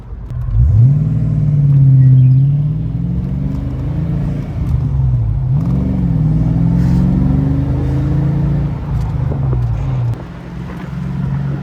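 A 1989 Ford Mustang Convertible engine and exhaust, a low rumbling drone with a couple of rising revs as it drives past, near and fairly loud with some wind noise.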